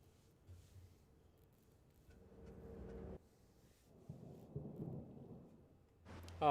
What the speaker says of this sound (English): Oh, it sounds like we're in a storm.